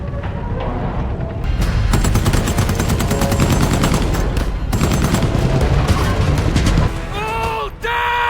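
Gunfire in a war film battle scene on the Western Front: rapid bursts of machine-gun and rifle fire, loud and dense, with a heavy boom and shouted voices near the end.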